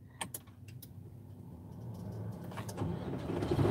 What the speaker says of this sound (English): Get this truck started.